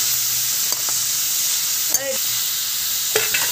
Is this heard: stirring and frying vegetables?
yes